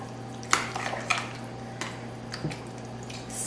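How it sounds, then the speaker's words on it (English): A spoon scrapes and clinks in a bowl as chicken pot pie filling made with canned milk is stirred, with soft wet squishing under a low steady background hum. "And we'll mix this all together."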